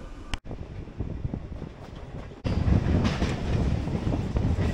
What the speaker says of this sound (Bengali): ট্রেন আমাদের সঠিক সময় ছেড়ে দিয়েছে